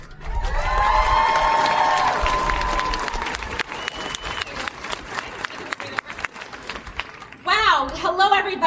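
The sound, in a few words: rally crowd applauding and cheering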